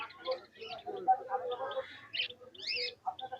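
Pigeons call from cages at a large pigeon market in Khalishpur, Khulna. Short chirps and whistling calls come close together in an irregular, busy pattern at moderate volume.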